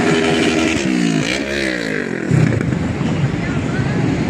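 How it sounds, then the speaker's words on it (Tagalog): A motorcycle on a busy riverside esplanade speeds past with a rising then falling engine whine, loud and close, amid crowd chatter and street noise. "Grabe magpatakbo ng motor guys."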